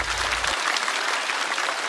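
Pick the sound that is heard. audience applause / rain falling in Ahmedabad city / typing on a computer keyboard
audience applause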